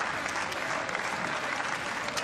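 Home crowd applauding a high jumper at a 2019 heptathlon in Borås, steady dense clapping filling the whole stretch, close and loud with no talk over it.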